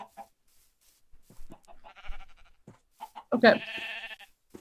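Sheep bleats from the video game Minecraft, a short wavering bleat near the end following soft scattered game sounds, with a brief spoken word earlier.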